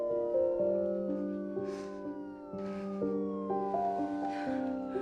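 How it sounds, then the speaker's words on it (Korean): A siren wails steadily in the distance, its tones shifting and overlapping, with no voices, over a faint background. "들려오기 시작하는 사이렌 소리."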